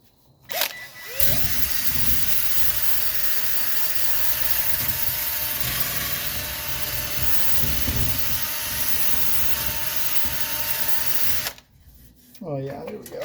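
Sandpaper of 100 grit scrubbing primered metal on a 1985 Mercedes 300D, a steady loud rasping hiss that runs continuously for about ten seconds before stopping, with brief talk at the start and end.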